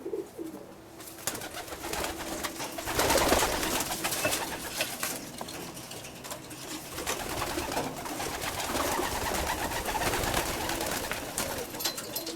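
Racing pigeons cooing repeatedly, soft throaty calls overlapping at close range over a rustling, noisy background with no talk.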